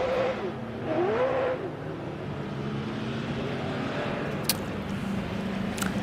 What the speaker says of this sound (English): Historic touring cars on the track for their final event of the day